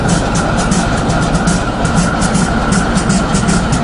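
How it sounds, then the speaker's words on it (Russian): Diesel locomotive running with a steady rhythmic, beat-like pulse of rail clatter and engine throb, close and continuous throughout. "Единственный в мире тепловоз-битбоксер."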